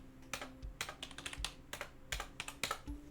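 Keys clatter on a computer keyboard in irregular bursts of quick taps with short pauses, close and fairly quiet, no voices.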